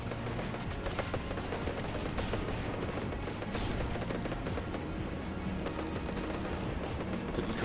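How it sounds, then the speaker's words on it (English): Gatling cannons and automatic grenade launchers fire in a combat video game, a dense, continuous roar of rapid shots and blasts at steady low volume with no pauses. "This guy's got Gatling cannons and automatic grenade launchers."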